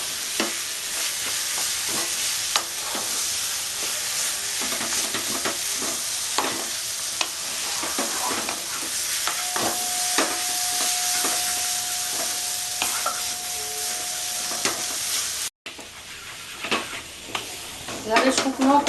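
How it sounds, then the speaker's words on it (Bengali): A spoon stirs and dry-roasts a jackfruit and spice masala mixture in a pan, giving a steady sizzle with repeated scraping strokes, close and continuous, with a brief cut near the end. "এভাবে শুকনো করে কষে নিতে হবে, মশলা দিয়ে শুকনো করে কষে নিতে হবে।"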